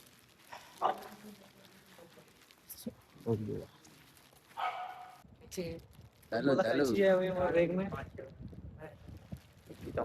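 Dogs bark and yelp in short bursts at night by the water, a flurry of barking near the end, with people talking throughout.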